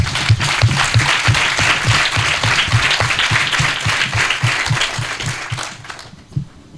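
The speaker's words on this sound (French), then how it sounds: "Madame Cindy Bellier, que je vous demande d'applaudir très fort." Loud, sustained applause from an audience at a school kit and kiosk donation ceremony, with steady clapping filling the hall before it fades out abruptly at the end.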